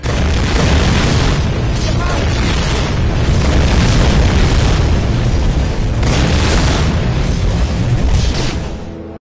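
A huge explosion in the Medal of Honor Frontline game, a loud, sustained booming roar filling the whole clip before cutting off at the end.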